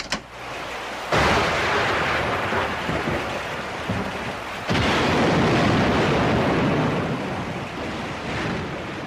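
A thunderstorm in a Filipino action film: loud, dense rain with sudden swells of crashing thunder that surge in twice and roll on, no voices heard.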